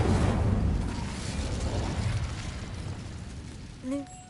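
A fire spell cast in Hogwarts Legacy, a rushing, crackling burst of flame that swells loudly and slowly fades, followed by a brief faint chime.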